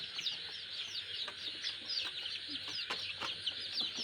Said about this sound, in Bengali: মুরগিগুলো বহুত বড় হয়েছে।